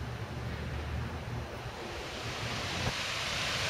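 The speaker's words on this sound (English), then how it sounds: "Behind me you see the spillway, which most people consider the dam." Water pours over the spillway of an 1899 hydroelectric dam, a constant broad roar like surf, steady and fairly loud throughout with no voices.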